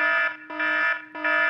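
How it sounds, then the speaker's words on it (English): An alarm sounds in three loud, even electronic pulses of a buzzing multi-tone note, each separated by a brief dip. No other sound competes with it. "I bet my alarm's about to go off."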